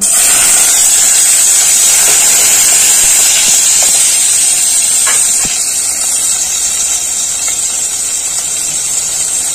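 Chopped tomatoes dropped into hot oil with fried whole spices for a paneer dish, giving a loud, steady hiss of sizzling that eases slightly after a few seconds and continues alone.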